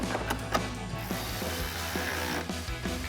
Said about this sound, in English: Grab our ratchet, 10mm socket, tighten these 2 down.